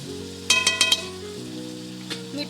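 Chicken being sautéed with spice masala in a pan, a steady close sizzle of frying with a few quick metallic clinks of a spoon against the pan, no talking.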